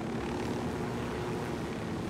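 Helicopter in the Ghost Recon video game, a steady, loud rotor and engine drone that holds constant throughout with no pauses.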